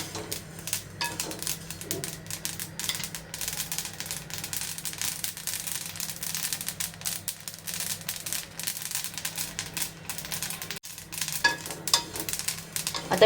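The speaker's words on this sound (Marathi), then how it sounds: "बघा तीळ भाजताना असा आवाज येतो," Sesame seeds dry-roasting in a pan give a steady fine crackle and sizzle, with soft stirring scrapes running through it, fairly quiet and close, with no talk over it.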